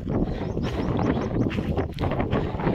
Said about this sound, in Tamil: காற்றடிக்குதுங்க